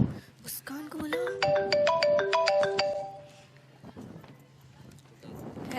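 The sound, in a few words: phone ringing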